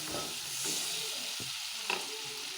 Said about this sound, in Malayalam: എന്നിട്ട് നന്നായി ഇളക്കും